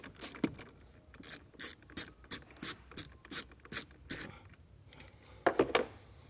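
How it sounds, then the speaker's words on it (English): A ratchet with a 10 mm socket turns the nut on a car battery's positive post, giving a run of about a dozen sharp, close clicking bursts in steady rhythm with short pauses between. "We can remove that nut with a 10 millimeter socket."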